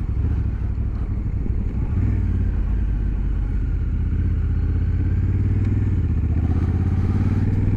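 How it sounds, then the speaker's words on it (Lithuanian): A 2025 Honda Africa Twin DCT adventure motorcycle engine runs steadily, a deep, loud, continuous throbbing rumble with a fine pulsing texture that holds even throughout, with no voices. "Gražus variklio garsas"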